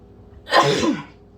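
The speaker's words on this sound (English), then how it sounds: "I'm about to sneeze." A single loud, breathy sneeze bursts out close by, lasting under a second.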